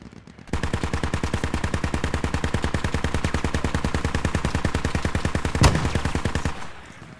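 Automatic rifle fire in the military shooter game Squad, a loud, close, sustained burst of rapid evenly spaced shots lasting about six seconds, with one heavier thump near the end.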